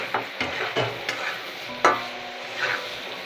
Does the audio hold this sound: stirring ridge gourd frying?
yes